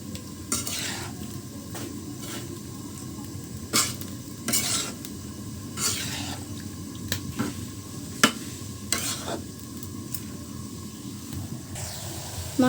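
A spoon stirs pumpkin frying in a pan, scraping and clinking against the metal in repeated strokes over a soft, steady sizzle, close up, with no talking.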